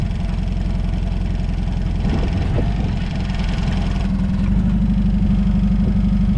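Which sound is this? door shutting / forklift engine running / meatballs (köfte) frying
forklift engine running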